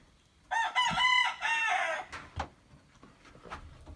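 A rooster crows loudly and close by in the early morning, two drawn-out calls in quick succession, followed by scattered clucks from chickens around the farmyard.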